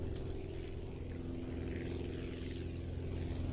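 Steady propeller-plane engine drone in the Aviassembly flight game as the throttle eases back, a continuous low hum with tonal bands holding at an even level and no talk.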